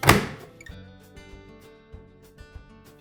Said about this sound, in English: Close your door.